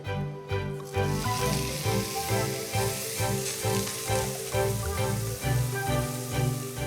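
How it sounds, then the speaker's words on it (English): Loud, steady sizzling of steak searing in a hot pan, a dense crackling hiss that continues without pause. "expect quite a bit of sizzling when I put it in"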